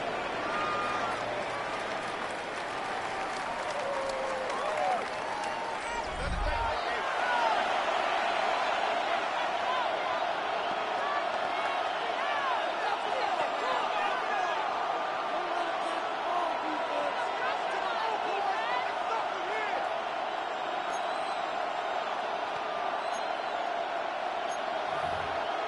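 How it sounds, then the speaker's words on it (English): Football stadium crowd at a 49ers game roars in a steady, dense wash of cheering and noise late in the third quarter, with a commentator speaking over it. "The crowd making their presence felt."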